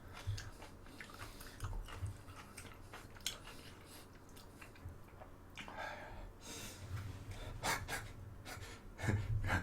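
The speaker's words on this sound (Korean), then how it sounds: "고기 쌈을 먹어볼게요." Someone eats a big lettuce wrap filled with meat. It sounds like close, quiet, wet chewing and biting in irregular bursts, with breathy exhales and small gasps between mouthfuls.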